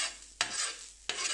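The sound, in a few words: onions and garlic frying on carbon steel griddle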